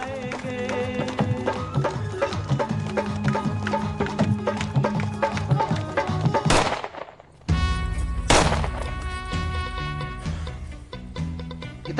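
Gunfire in a tense crime drama scene set at a goddess shrine: a sharp blast cuts through a dense, loud music score, followed by a brief near-silent gap before a second loud burst and the music resuming.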